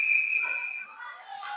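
A referee's whistle at a junior ice hockey game sounds one long, loud, steady blast near the start. It fades out into arena crowd noise and a commentator's voice.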